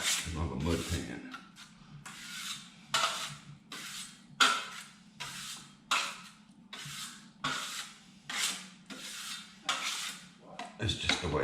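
A trowel working drywall mud against a mud pan during a drywall patch repair, giving repeated scraping strokes in a steady rhythm of about a dozen rasping passes, close and fairly loud, with no talk.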